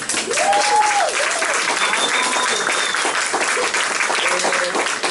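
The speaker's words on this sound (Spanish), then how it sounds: "Así que deseo un fuerte aplauso." A crowd at a parish gathering claps steadily for several seconds, dense and fairly loud, while brief voices and a few whistles or calls rise over the applause.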